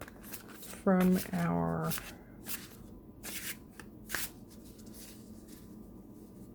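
Wandering Path Tarot cards riffle and shuffle in short bursts near the microphone while someone speaks briefly over them.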